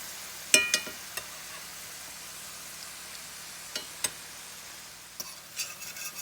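Onions and gravy cooking down in a skillet give a quiet, steady sizzle, broken by a few sharp utensil clicks and scrapes against the pan as everything is mixed, close and without talk.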